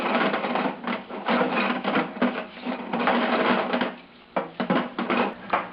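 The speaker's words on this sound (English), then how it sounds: "then they all get put through the parts washer" Parts washer cleaning engine parts from a 1976 Mazda RX-5 Cosmo, a busy, clattering wash with irregular bursts and a brief lull near the end.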